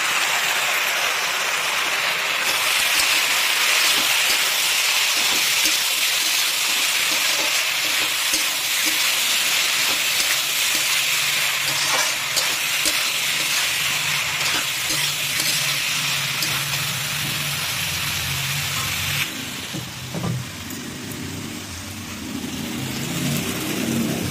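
A ginger, garlic and green chili paste fries in a pan of hot oil while prawns and onion greens are cooked, making a loud, continuous sizzle with stirring scrapes that dips near the end as water is added.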